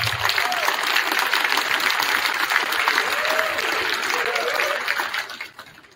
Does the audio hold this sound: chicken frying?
no